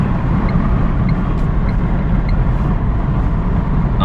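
A car with a German 1.2 litre engine cruises at 80-90 on a highway, producing a loud, steady road rumble and engine drone from inside the cabin, continuous throughout with no talking.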